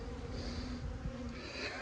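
Honey bees swarm around a hive in a steady, dense buzz that hums on without pause from start to finish at moderate volume.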